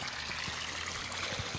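Water trickles and streams down a drainage channel cut across a forest path in the Black Forest, a steady close burble running alone throughout.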